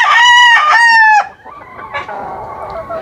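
A kanawayon gamefowl rooster crows loudly and close by in one long harmonic call lasting just over a second, followed by quieter background noise and a faint secondary squawk.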